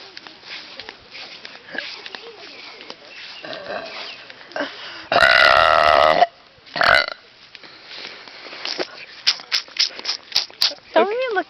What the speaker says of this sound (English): Burp on your way over there.